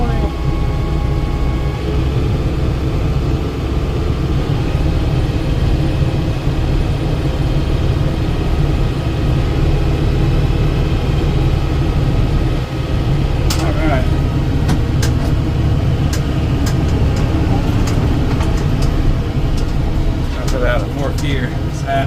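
Kubota M7060 tractor engine running steadily at 540 PTO speed with a brush hog attached, a loud continuous low rumble throughout, with a few brief clanks and rattles late on.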